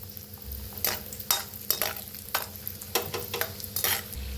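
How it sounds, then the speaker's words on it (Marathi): Cashews are dry-roasted in a pan over low gas for a spiced chivda snack, with a spoon stirring and scraping in repeated rhythmic strokes over a soft, steady sizzle, close up and with no voices. "काजू भाजून घेऊया। गॅस बारीक करूनच भाजा बरं का"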